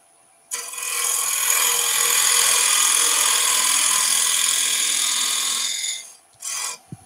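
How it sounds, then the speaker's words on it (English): A parting tool cuts the wooden foot of a turned potpourri pot on a lathe, giving a loud, steady rasping whine for about five seconds that stops abruptly, followed by a brief second touch of the tool. "Parting tool just to cut the foot."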